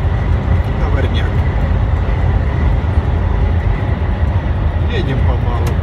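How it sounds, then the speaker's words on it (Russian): A long freight train rumbles steadily past nearby, a dense continuous roar of rolling wagons with faint squeals on top and no pauses. "Товарняк."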